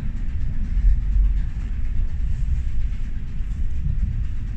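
A steam railway train rolling along its rails, heard from inside a passenger carriage as a steady low rumble with faint rhythmic clatter, continuous and without talk.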